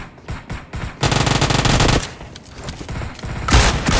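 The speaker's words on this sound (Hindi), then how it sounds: "शॉटगन से ही हेडशॉट दे दिया सीधा" Bursts of shotgun fire in the mobile battle royale game BGMI on the Vikendi map, heard as several sharp close blasts with short gaps between, some loud salvos packed together and little else behind them.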